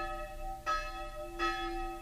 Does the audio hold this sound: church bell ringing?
yes